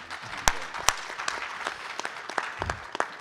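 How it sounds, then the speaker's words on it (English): An audience at a business retreat panel claps briefly, a light, sparse patter of scattered hand claps with a few sharper individual claps standing out, fairly distant and modest in volume. "Give a round of applause for that"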